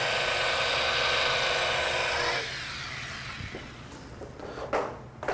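A rotary buffer running at low speed, around 400 to 600 RPM, polishing a thin car panel: a steady close motor whir that slows and fades after a couple of seconds, followed by faint handling knocks.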